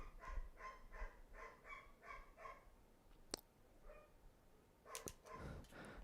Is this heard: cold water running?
no